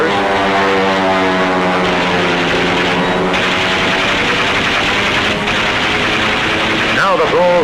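Warplanes attack the surfaced U-boat U-505. A loud, sustained propeller-engine drone roars throughout, with a voice talking over it and a brief whooshing pass near the end.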